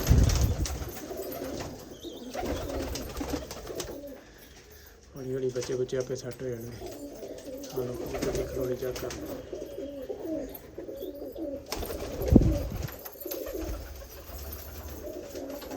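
Paired pigeons nesting in a loft during breeding season coo steadily in low, throaty rolls, close and repeated over several seconds, with someone talking over them at times.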